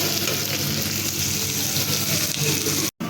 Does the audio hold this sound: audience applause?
no